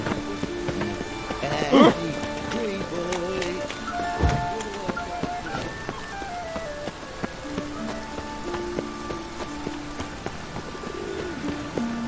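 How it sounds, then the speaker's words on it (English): Steady rain in The Witcher 3 patters on the ground through the whole stretch, with occasional birds, a sharp knock and tonal game sounds layered over it, and character voices speaking. "Rain again."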